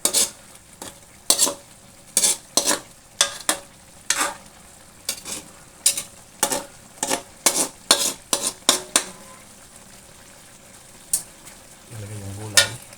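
Vegetables are stir-fried in a pan over a steady background sizzle, with a spatula scraping and clanking against the metal in a quick, regular rhythm, close by; a voice speaks briefly at the end.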